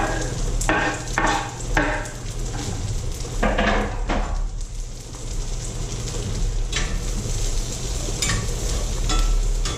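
Soft vegetables sizzle loudly in a very hot skillet with butter and grease, a constant frying hiss broken by several sharp clatters of stirring near the start and again later.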